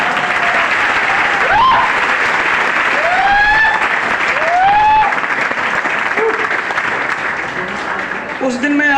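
Loud, sustained audience applause fills an AWPL health program in Badayun, with voices and rising whistle-like calls cutting through the clapping before it thins out near the end.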